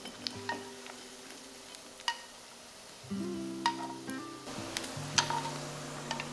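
Pork belly frying in a pan until golden and crisp at the edges, giving a soft, low sizzle with scattered light clicks and ticks, quiet and close with no talk.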